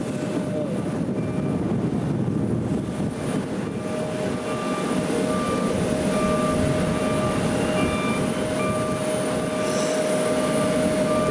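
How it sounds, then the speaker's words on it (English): TUI Boeing Dreamliner airliner at Manchester Airport, a steady, sustained engine roar and rumble heard from a distance outdoors, continuous with no voices. "Big TUI Dreamliner there."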